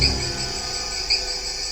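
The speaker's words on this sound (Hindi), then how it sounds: "झिंगुरों की आवाज ने सन्नाटे को तोड़ा" Crickets chirping at night in a quiet outdoor setting, a steady high-pitched trill with a couple of brighter chirp bursts over faint background hiss.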